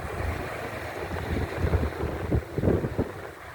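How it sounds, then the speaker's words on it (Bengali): Rough sea at Cox's Bazar beach: waves roll and surge under heavy wind buffeting the microphone, with rising crashes toward the end. "অশান্ত পানির ঢেউ"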